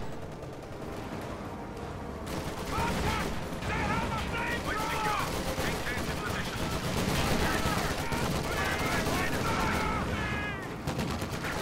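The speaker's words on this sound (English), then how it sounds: "Small arms fire from the Sturm Pios, to be fair, actually does pretty good damage to this unit." Small arms fire from Sturm Pioneer infantry in a World War II strategy game: a sustained fusillade of rapid rifle and machine-gun bursts, loud and dense, with metallic clatter and occasional heavier booms, continuing steadily throughout.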